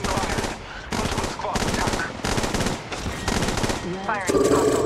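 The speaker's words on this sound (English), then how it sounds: "Firing right" Gunfire in the mobile battle royale game Apex Legends Mobile: sustained rapid automatic bursts, loud and near, with brief pauses between volleys and game interface tones near the end.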